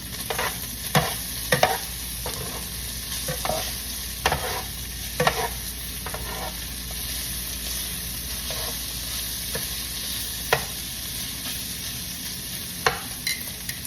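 Bacon and garlic fry in a pan over lowered heat, giving a steady close sizzle broken by repeated scraping and stirring strokes, with no voices.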